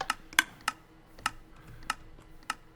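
A Minecraft dispenser clicks as it dispenses seeds in a redstone cow-farm setup. Sharp, light clicks arrive at a steady pace, about seven of them, crisp and close over quiet background.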